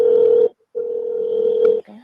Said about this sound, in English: So the phone is ringing.